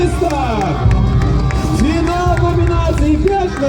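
A crowd cheers, whoops and shouts loudly at a staged fight in the Kyivan Rus park at Kopachiv, with children's voices mixed into the dense, continuous noise.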